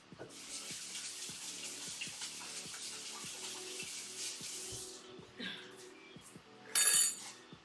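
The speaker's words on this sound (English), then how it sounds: "just gonna wash my hands" Water runs from a kitchen tap while hands are washed beneath it, a steady close splashing with small clinks, ending in a brief louder gush.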